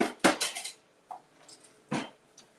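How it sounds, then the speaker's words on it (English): Dishes being handled in a home kitchen, with sharp clinks and clatters of plates and utensils arriving in short irregular bursts separated by quiet gaps, close and fairly loud with no talking. "You may hear the dishwasher."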